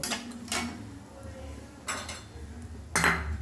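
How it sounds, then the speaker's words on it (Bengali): A utensil scrapes and clinks against a pan while masala is stirred and fried, bursts of metallic scraping recurring every second or so over a low cooking rumble. "দিয়ে এবার 3-4 মিনিট সময় নিয়ে মশলাটা খুব ভালোভাবে"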